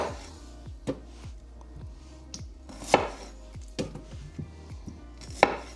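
Food being chopped and blitzed in a food processor before canning, giving a steady run of repeated sharp chopping strikes with a few louder impacts, close by and with no talk.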